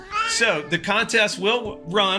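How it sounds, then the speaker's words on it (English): Cat meowing repeatedly close by, several drawn-out yowling cries overlapping a man's speech. "Sorry about the cat. It's being like crazy today."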